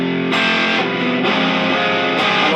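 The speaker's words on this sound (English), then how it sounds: "I'll put a bit of distortion on to sort of get it a bit closer to the sound that he's producing" An electric guitar played through a distortion effect rings out loud and close in sustained, saturated notes, with a few fresh attacks as the chords change during a rock solo.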